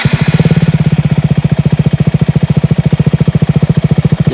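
A KTM Duke 125 motorcycle engine runs close by at a steady idle, its low exhaust pulsing in an even, rapid rhythm.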